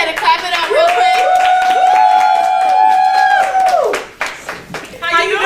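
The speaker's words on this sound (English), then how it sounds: "Y'all go ahead and clap it up real" A studio audience at a talk show claps and cheers to welcome an author and entrepreneur guest, with loud sustained applause and rising whoops filling the room for about four seconds before fading.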